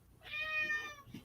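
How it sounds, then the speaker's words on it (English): A pet cat gives a single clear meow, drawn out and fairly close, in a quiet room. "that's my cat."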